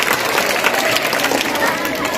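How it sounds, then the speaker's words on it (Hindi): Audience clapping at a school mushaira, a dense burst of applause from the assembled students and guests, loud and continuous for a couple of seconds with crowd murmur underneath. "आपकी पुरजोर तालियां तो बजाइए कम से कम"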